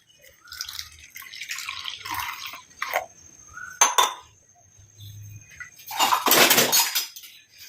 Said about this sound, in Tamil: இப்போ நம்ம தண்ணி சேர்த்துட்டு இந்த மாதிரி நல்லா கலந்து விட்டுருங்க எல்லாத்தையுமே.